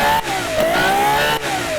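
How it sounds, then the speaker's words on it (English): A car engine in the game Automation revs loudly and steadily, its pitch rising and falling for a moment with brief dips, harsh and close with no talk. "that's that overly loud automation engine that I'm used to"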